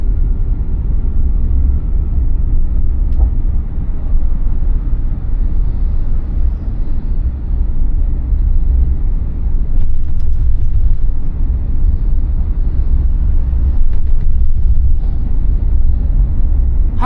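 Toyota HiAce Premio rolling over a speed breaker at 30 km/h, heard from inside as a steady low cabin rumble of road and engine noise with faint thumps and rattles partway through.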